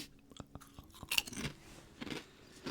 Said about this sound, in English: You like the crunchy crisps?